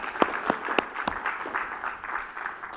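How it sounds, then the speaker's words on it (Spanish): Church congregation clapping for the Lord, a handful of sharp hand claps early on, then a denser, softer patter of applause carrying on steadily. "Dele palmas al Señor porque Él es bueno."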